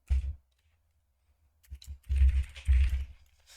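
Bursts of clattering keystrokes on a computer keyboard, a short flurry, a pause, then denser rapid typing, close and dry.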